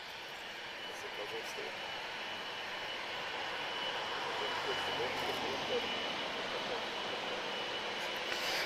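Jet airliner at Lisbon Airport, a continuous broad engine roar holding steady and swelling slightly as it goes on, heard from a distance with faint talking underneath.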